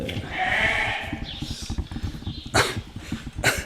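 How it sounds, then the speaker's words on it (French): A sheep bleats loudly up close in a domestic room, with a long nasal cry at the start and two shorter sharp calls later over a background of scuffling and handling noise. "Voilà, on a le mouton là."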